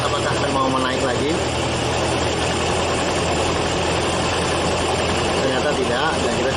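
Small petrol engine running at high revs while its carburetor is adjusted, a steady loud drone with constant vibration throughout, under a voice talking.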